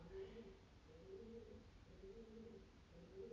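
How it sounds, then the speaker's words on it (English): Soft, low cooing of doves outside a window repeats in a slow rhythm, faint and somewhat distant, over quiet background hiss. "I don't know if you can hear the doves outside."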